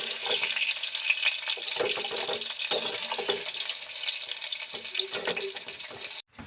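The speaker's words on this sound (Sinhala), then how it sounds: "ලුණු පොඩි ගෙඩියක් කපාගෙන ඒකත් තෙලට දාලා දාපු ගමන්ම වගේ ගන්න" A small chopped onion fries in hot oil, giving a continuous close sizzle and crackle with soft stirring clatter before cutting off abruptly.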